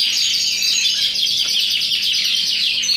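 Show canaries, including self-buff birds, chirping in a cage, a continuous bright twittering of rapid overlapping trills at close range.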